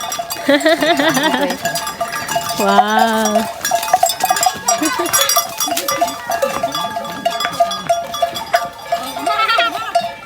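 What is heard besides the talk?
herd of water buffalo with bells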